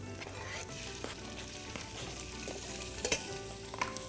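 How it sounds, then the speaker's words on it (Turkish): Chicken sizzling and crackling in a hot pot, with scattered pops and the scrape of stirring now and then, close up. "Tavuğumuzu iyice bir kavurma başladı sevgili izleyenler"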